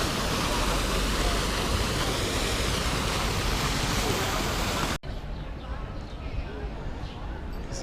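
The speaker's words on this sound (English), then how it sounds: "And that is one frothy waterfall." Frothy waterfall in Oslo, a steady broadband roar of falling water, loud and continuous, dropping abruptly to a quieter, more distant wash partway through.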